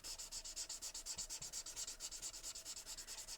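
A Winsor & Newton alcohol marker's chisel end rubs back and forth on paper in a fast, even rhythm of close scratchy strokes, steady and alone with no talking.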